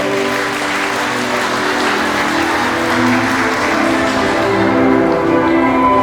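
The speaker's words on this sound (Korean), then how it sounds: "박수를 다시 한번 부탁드리겠습니다." Wedding guests applaud in a hall while music with sustained tones plays loudly underneath, the clapping blending into a continuous crowd wash for the full length.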